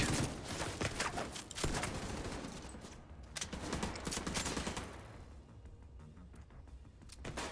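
Shotgun gunfire in the video game The Division 2, a run of loud, close bursts of shots and impacts in quick succession, easing into quieter rustling after a few seconds.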